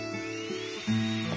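A pneumatic jewelry engraving graver running in drilling mode gives a steady, high-pitched whine, with its pitch stepping upward partway through the short stretch of sound.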